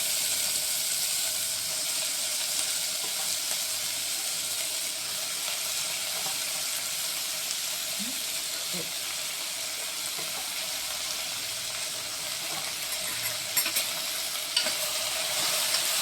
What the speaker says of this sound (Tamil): இப்போ நம்ம எடுத்து வச்ச வெண்டைக்காவை போட்டு கொஞ்சம் நல்லா வதக்கணும்.